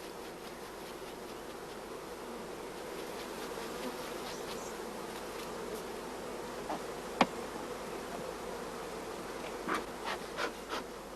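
Honey bees buzzing steadily around hive frames, a soft continuous drone from many insects close by, with a few faint clicks and knocks near the end.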